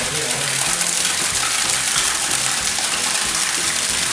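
Cold, clear spring water gushing from a pipe set into a mountainside at public baths in Honduras, a loud steady splashing rush close by, with faint voices underneath.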